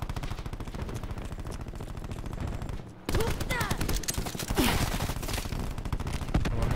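Gunfire in Call of Duty Black Ops 4 crackles in a continuous, fairly faint fusillade of rapid shots across the whole stretch, with a brief drop near the midpoint and a little talk mixed in.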